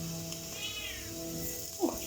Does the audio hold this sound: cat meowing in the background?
yes